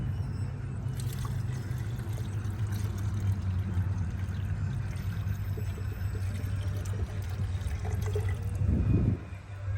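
Water poured steadily into the coolant system of an overheating Range Rover, a continuous low gurgling trickle lasting several seconds that swells into a louder gush near the end.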